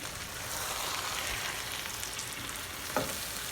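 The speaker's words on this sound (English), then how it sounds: "Now add the rice and fry it over low heat" Rice frying over low heat in a pan for Goa sausage rice, a steady close sizzle throughout with one brief scrape of a utensil near the end.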